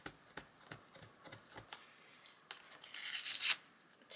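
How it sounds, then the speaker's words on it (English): Scissors snipping washi tape, a run of small quiet clicks followed by a brief rough tearing, papery rustle, close and soft. "Let's get my sharpest scissors"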